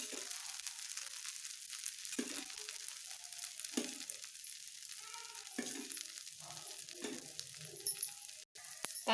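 Fenugreek leaf dosa sizzles in ghee on a hot pan. The frying hiss is steady and faint and close by, with occasional light clinks of a utensil.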